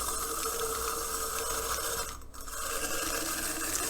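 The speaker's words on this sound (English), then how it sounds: "I'm going to add a small carrot, which I'm going to grate right into my bowl of noodles with my food processor" A small carrot being grated in a food processor gives a continuous, close rasping and scraping whir over a motor hum, with one brief dip partway through before the grating resumes.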